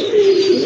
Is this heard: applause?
no